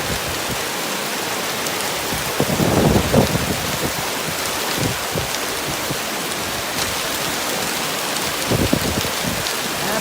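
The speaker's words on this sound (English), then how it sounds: "Absolutely hailing marbles. And they're coming in the house right now." Hail pounds down hard in a steady, dense roar of impacts, loud and continuous with occasional heavier bursts and no talking.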